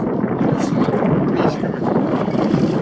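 A small boat out on Lake Peipsi during perch fishing, heard as a loud, constant rush of wind buffeting the microphone over a steady low rumble of water.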